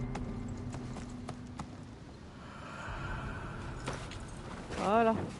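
Horse hooves clip-clop in Assassin's Creed Mirage, a few scattered hoofbeats under talk, closing with a loud horse whinny.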